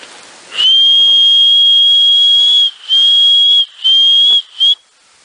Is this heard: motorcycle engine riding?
no